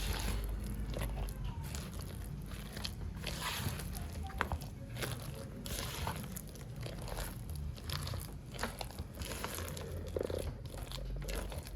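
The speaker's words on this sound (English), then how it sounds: "just give this a gentle stir, making sure we get a thicker paste" Overripe plantain paste is stirred gently into a thick mixture, giving a continuous wet, squelchy crunching and sloshing that stays steady and close throughout.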